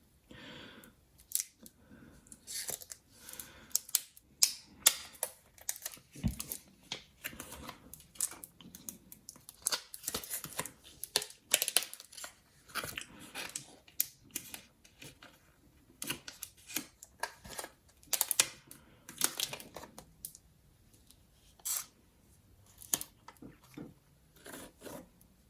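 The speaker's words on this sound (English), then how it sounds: "the time has come now to finally get this unwrapped" Box packaging of a Mirror Purple Samsung Galaxy Z Flip being unwrapped, with close, irregular bursts of crinkling, tearing and snipping that come in quick clusters and then pause, and no voices.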